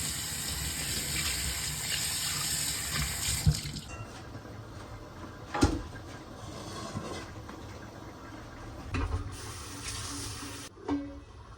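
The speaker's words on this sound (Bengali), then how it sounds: "এই যে সব বাসন এখন ধুতে হবে" Kitchen tap running to wash dishes, a steady faint stream of water with soft clinks and knocks of dishware; the flow cuts off and restarts in the final seconds, no voices heard.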